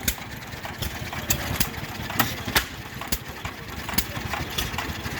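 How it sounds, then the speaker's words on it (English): A small homemade steam engine at an engine works tractor show chuffs and putters in a steady rhythm with sharp periodic puffs, moderately close and fairly quiet against the outdoor background. "Little homemade steam engine."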